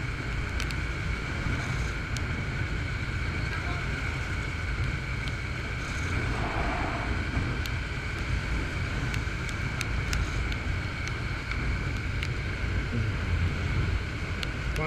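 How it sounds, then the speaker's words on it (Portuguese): Steady wind blowing outdoors, a continuous broad rushing roar with microphone buffeting, loud and unbroken throughout with no talking. "Bate o vento, seca rapidinho."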